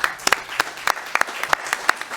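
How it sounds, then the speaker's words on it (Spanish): Scattered, uneven handclaps from a modest audience at a talk welcoming a guest, sharp individual claps popping out rather than a dense wash, fairly close and moderately loud. "Así que un aplauso"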